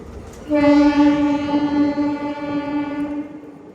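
A Nellore to Vijayawada MEMU Express, train 17259, sounds a long steady horn blast after pulling out of Tenali Junction, loud and close over the low rumble of the moving train.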